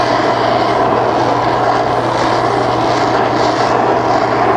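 A torch roars steadily as it lays a heavy soot coating on an aluminum panel for annealing, a Jaguar E-Type bonnet being shaped; the loud broadband rush holds constant and close throughout with no talking.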